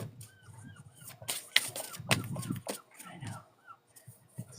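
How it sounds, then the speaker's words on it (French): Seagulls call repeatedly, faint and distant, their squawks rising over a low outdoor rumble with scattered knocks and handling noises nearby. "J'entends les mouettes de chez toi"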